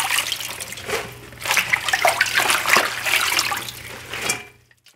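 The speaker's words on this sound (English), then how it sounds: "I'm rinsing it also in the other small bowl" Collard greens are swished and rinsed in a small bowl of water to wash out sand, giving steady close splashing and sloshing with bursts of dribbling water, fading out at the end.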